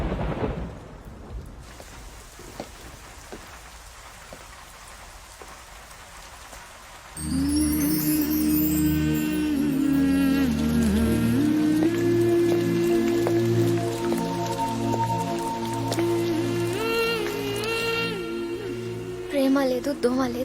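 Steady rain hisses over a low rumble of thunder, at first alone, then under loud sustained music that swells in partway through.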